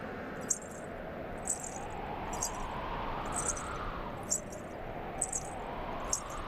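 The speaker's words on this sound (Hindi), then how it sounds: "ये किसके पायल की ध्वनि है?" Small anklet bells jingle in brief bright clusters about once a second, repeating through a mythological court drama scene over a steady low background hum.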